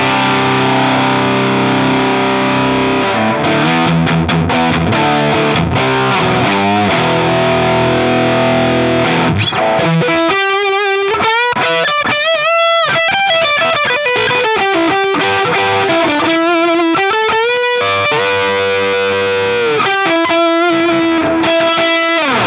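Heavily distorted electric guitar through a Marshall DRP-1 pedal with the gain maxed out, loud and saturated, playing sustained chords and then sliding single-note lines with thick, fuzzy overdrive.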